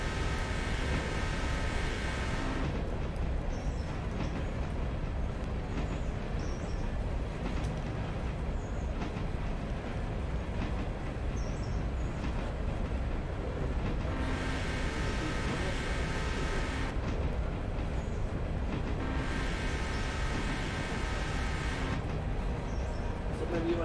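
A diesel train runs along the railroad with a loud, steady rumble throughout, and hissing swells recur at intervals over the constant roar.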